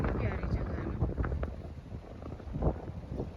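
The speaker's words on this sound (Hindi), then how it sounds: "मज़े की हवा चल रही है" Pleasant outdoor wind in Madina gusts steadily across the microphone with a low, buffeting rumble, while faint voices murmur in the background.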